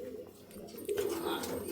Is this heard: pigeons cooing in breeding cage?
yes